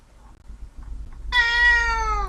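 A kitten-raised house cat gives one long, loud, drawn-out meow close by after a few quiet scuffling sounds, over a low background hum.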